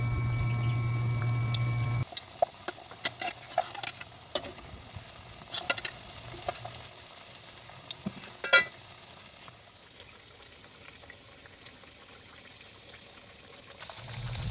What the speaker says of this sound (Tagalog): kapag kumulo na yung oil sa kalan, ilagay itong kamuti na in-slice natin kanina